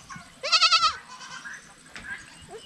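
Young goats on a farm give one loud, close, wavering bleat, followed by fainter bleats and rustling while a person speaks nearby.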